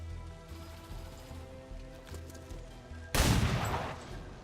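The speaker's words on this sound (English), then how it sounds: "Let's hit the Codex once with a pistol." Single loud pistol shot fired at a Codex in XCOM 2, a sharp crack with a decaying tail, breaking through quiet game ambience and music.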